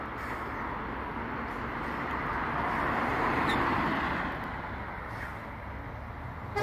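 A Humber Pig armoured vehicle moves through road traffic. Its steady broadband engine and road rumble swells to a louder pass in the middle, then eases back into the ongoing traffic noise.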